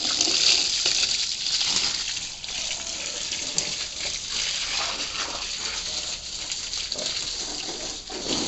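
Water sprays steadily over an RV 400 motorbike during a wash, a continuous close hiss and gush with no pauses and no talk.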